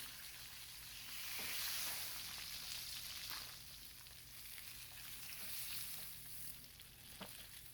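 Salmon fillets fry skin-side down in oil and butter, a soft, steady sizzle and crackle that swells and fades as the pieces are flipped, with faint utensil taps.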